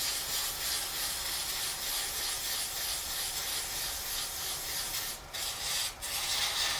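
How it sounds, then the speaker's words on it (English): Sandpaper of 600 grit rubbing a CA glue finish on a turned wooden piece, a steady, close, rough scraping hiss that runs throughout and pauses briefly twice near the end. "So once again, I'm going to come in here with the 600 grit."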